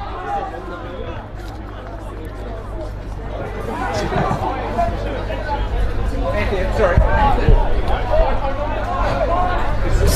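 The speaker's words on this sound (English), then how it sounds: "It's a large crowd here at West Beach today." A large crowd at a school soccer match between Christian Brothers College and Blackfriars at West Beach, a continuous babble of many voices that swells gradually louder, with a commentator's voice cutting through.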